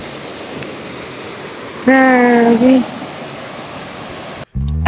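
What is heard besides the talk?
strong river current rushing, Canlaon river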